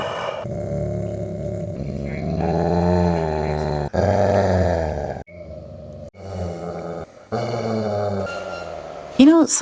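A dog named Apollo growls in long, rumbling, voiced bursts, loud and close, with pauses between them and a brief higher whine or yelp near the end.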